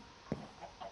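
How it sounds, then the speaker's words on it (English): A Minecraft chicken gives a single short, soft cluck, faint and brief against quiet background hum, with a couple of fainter murmurs afterward. "see how my chickens are doing"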